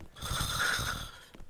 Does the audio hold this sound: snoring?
yes